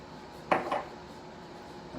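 A couple of soft clinks of a utensil against a dish while hoisin sauce is stirred into a steamed fish fillet, brief and close, then quiet.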